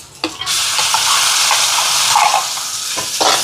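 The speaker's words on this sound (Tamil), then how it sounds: "இது கொஞ்சம் வதங்கி பச்சை வாசம் போகட்டும்" Ginger garlic paste sizzles loudly in hot oil in a pan for a Sri Lankan chicken curry, a steady bright hiss with a sharp burst as it goes in and faint scraping stirs, no talking.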